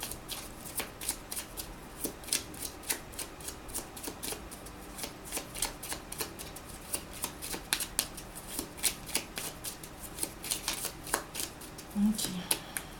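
Tarot cards shuffled by hand during a card reading, a long run of quick riffling bursts up close, with no voices.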